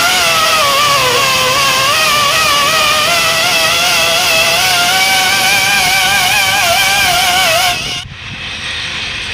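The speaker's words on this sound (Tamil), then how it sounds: "இது வந்து ஏர் கிரைண்டரு, ஏர்லேயே ஒர்க் ஆகும்." A pneumatic air grinder works over a punctured 10.00 R20 truck tyre, a loud high-pitched whine with wavering pitch as it grinds, held steady for about eight seconds before dropping off sharply.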